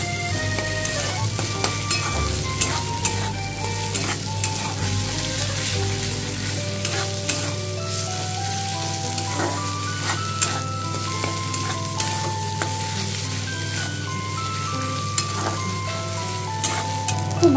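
Ginger and green chili paste sautéed in a pan for an egg and potato curry gives a continuous close sizzle with steady stirring, while a tuneful melody plays along throughout.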